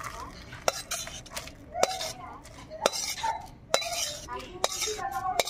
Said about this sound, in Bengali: এই খুন্তির সাহায্যে একটু জলটা চেপে নিচ্ছি